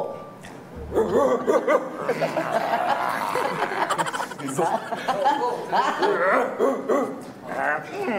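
A person's voice mimics a dog's barks and growls in rough, repeated bursts, with chuckling mixed in throughout.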